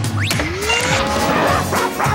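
A cartoon robot hound dog barks and yips in quick bursts, with a rising whine-like sweep and a crashing clatter in between, loud and close.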